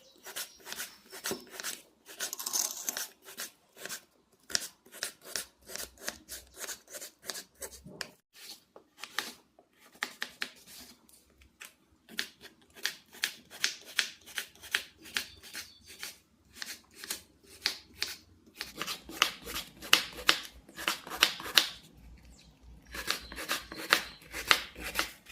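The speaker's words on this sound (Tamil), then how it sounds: "இதுவுமே கொஞ்சம் சுத்தம் பண்ணிட்டு தாங்க கட் பண்ணுறேன்." A knife cuts through a fresh green vegetable on a board in a home kitchen, a long run of quick, crisp chops and slices in irregular bursts, close and steady with pauses.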